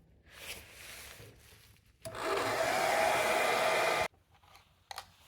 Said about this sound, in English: I'm going to have the hairdryer going kind of on a low setting.